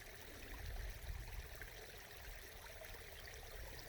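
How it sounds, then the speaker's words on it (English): Melting frost dripping off sun-warmed trees like falling raindrops, a steady close patter and trickle under a broad wash of water-like hiss, with no talking. "The sun's warmed it up, and you can just hear it like raindrops coming through there."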